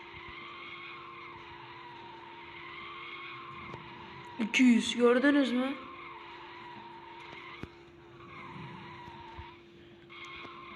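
A drifting car's tires skid in a loud squealing burst that lasts about a second, set against a steady engine drone, with someone talking before and after.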